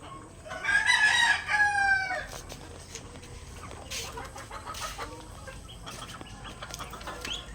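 A rooster crows loudly at a chicken farm, a long ringing call near the start, followed by scattered clucks and softer hen calls from a flock of chickens in the background.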